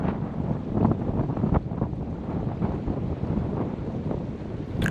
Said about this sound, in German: der Wind blies recht ordentlich durch dieses enge Tal